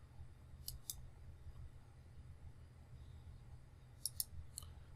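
Two quick pairs of computer mouse clicks, a right-click made while working in Solid Edge CAD software, sound sharp and close over a steady low hum. A third click follows the second pair, and there is no talk.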